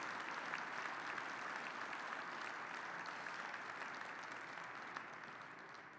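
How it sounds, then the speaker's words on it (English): Conference keynote audience applauding steadily and loudly for about six seconds, a dense unbroken wash of clapping that tapers slightly at the end. "So let's give one round of applause for everybody in Team ND."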